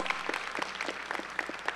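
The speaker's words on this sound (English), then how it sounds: "Give him another round of applause." Audience applause at a university matriculation convocation, a brief patter of scattered clapping hands, moderately close, with no talk over it.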